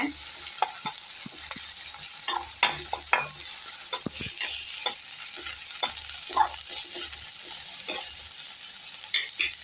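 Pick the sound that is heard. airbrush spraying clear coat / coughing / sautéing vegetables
sautéing vegetables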